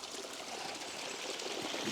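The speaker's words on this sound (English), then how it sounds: "So there's the water running now, like." Water runs in a steady, faint, broadband rush as it gushes down and washes away a footpath by Burntollet Bridge, continuous with no voices.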